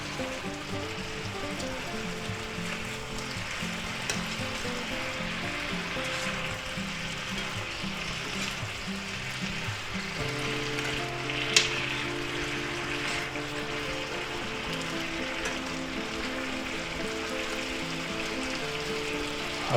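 Potatoes frying in a pan with onions and sausage, a steady, close sizzle and crackle like light rain, continuous throughout with a single brief clink partway through and a faint background hum.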